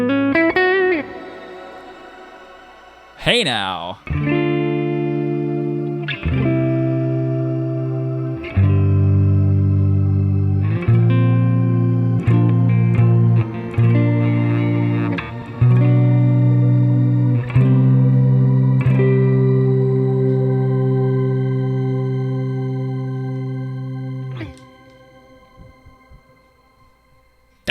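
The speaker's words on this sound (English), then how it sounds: "Let's hear what that shimmer sounds like." An electric guitar runs through the shimmer effect of the Neural DSP Archetype Misha Mansoor X amp sim, playing sustained, ringing chords with lush, pitch-shifted shimmering tails, loud and close, with a brief spoken interjection near the start.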